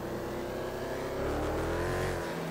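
A Dodge Demon in GTA 5 accelerates with a steady, loud engine drone that rises slightly in pitch, running continuously without talk.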